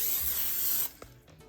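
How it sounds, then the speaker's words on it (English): Cooking spray hisses from a can onto the bottom of a baking dish in one steady, close burst lasting under a second, followed by a couple of soft handling clicks. "I'm just gonna spray the bottom of this."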